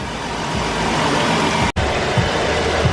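A car engine idles after a water pump repair, a steady close rumble that drops out for an instant partway through and then resumes, with no talking.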